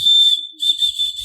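A whistle fidget toy is blown close into a studio microphone, giving loud, shrill, pure tones in two bursts with a brief gap between them.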